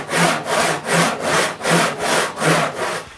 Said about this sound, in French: je peux enfin couper le premier morceau de la planche d'acajou